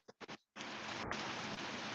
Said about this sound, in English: it's straight up heavy duty rain